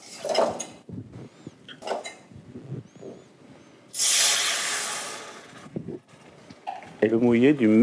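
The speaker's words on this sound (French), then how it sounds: "et le mouiller du même volume avec un fond de volaille" Broad hissing rush from rice in a hot pan as chicken stock is poured in for a pigeon risotto, loud and steady for about two seconds mid-clip, framed by speech before and after.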